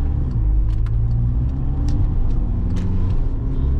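A 2013 Volkswagen Jetta Sportwagen TDI diesel with 63K miles pulls uphill at about half pedal, giving a steady low engine rumble and road noise heard from inside the cabin, with no talk.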